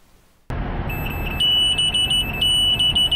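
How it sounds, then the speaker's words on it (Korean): The forward-collision warning of a driving safety device fitted to a large military vehicle sounds suddenly: a loud, continuous high electronic beeping that pulses rapidly over road and engine noise. "앞 차량과 가까워지자 경보음이 울립니다"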